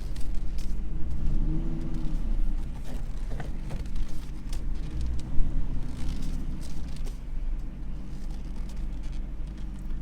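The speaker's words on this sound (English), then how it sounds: "Well, there's a Cobra R ride." A 2000 Ford Mustang Cobra R engine drones steadily during a ride, a low rumbling cabin hum with wind and road noise and occasional faint clicks over about ten seconds.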